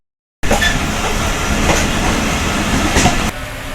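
A train rolls into Lahore railway station with a steady, loud rumble and rattle of carriages close by, with no talk over it.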